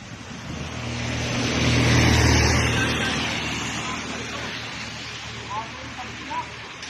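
A truck drives through floodwater, its rumble and churning water swelling to a loud peak about two seconds in, then slowly fading under steady wind and sloshing.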